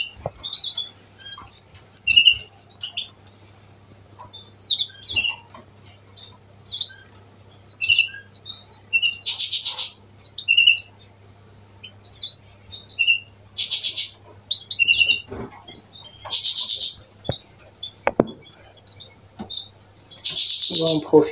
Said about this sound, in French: ils ont en fait 3 jeunes chardonnerets. Là, ils sont en train de nourrir.